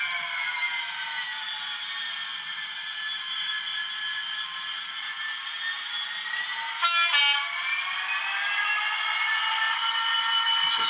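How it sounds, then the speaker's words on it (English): A model train horn triggered by Rocrail sounds in a steady sustained tone across the whole stretch, moderately quiet, with a brief clatter partway through and no talking. "So now when it enters block 1, the tone for the horn should only sound once."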